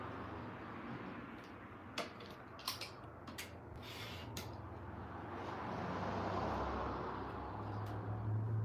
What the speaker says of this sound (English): That was loud traffic, sorry.